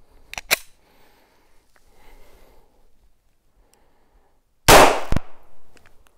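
Pistol firing Federal American Eagle 147 grain FMJ ammunition on a shooting range: a sharp, loud report near the start, then a quiet gap before a much louder, close blast with a brief ringing tail.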